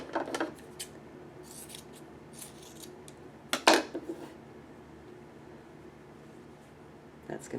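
Scissors trim a fabric seam in a few brief snips, with one sharper cluster of metallic cuts near the middle, quiet and close in an otherwise calm room.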